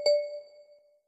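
A single bright notification bell ding struck once, ringing clear and close before fading out smoothly over about a second.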